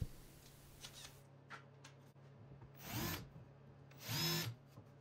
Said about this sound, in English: Drilled and countersunk a couple of mounting holes.